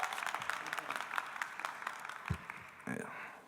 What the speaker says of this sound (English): We got a boisterous crowd.